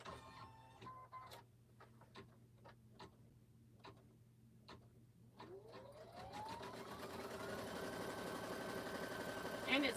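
A sewing machine stitches a quilt held in a frame, starting as a series of spaced mechanical ticks. The ticks build into a steady, rising whir of continuous stitching, close and fairly quiet.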